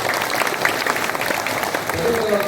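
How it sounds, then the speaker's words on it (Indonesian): Audience applause at a community organisation's thanksgiving gathering, a dense steady patter of many hands clapping, moderately loud and continuous, with a faint voice or murmur underneath. "Tepuk tangan beliau."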